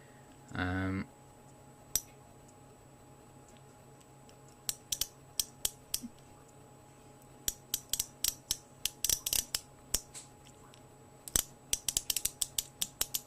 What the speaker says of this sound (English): Test that ratchet there. The mechanism.